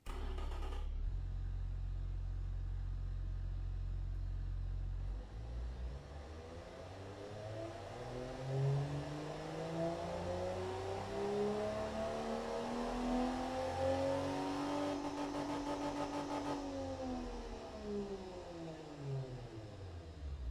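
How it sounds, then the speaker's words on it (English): A car engine in the Automation game, from the 1986 Edison Asteroid engine test, idles steadily and then revs up in long rising and falling sweeps, loud and alone for about twenty seconds. "You guys get to see the engine run."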